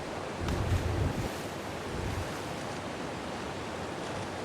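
Water waves wash in with a soft, continuous surf and wind noise, one fuller swell early on, then a steady hiss.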